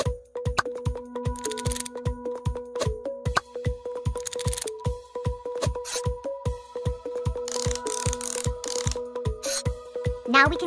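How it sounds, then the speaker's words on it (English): Screws are fastened in an ER surgery simulator game as a rapid run of mechanical ratcheting clicks, repeating steadily over a sustained electronic musical tone. "Attach all the screws."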